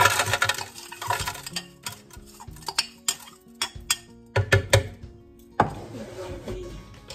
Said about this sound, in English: We're gonna be putting our ice in.